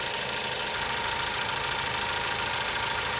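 A 2017 Ford Focus engine idles steadily with a coolant reservoir being changed, a continuous close mechanical hum with faint knocking texture and no voices.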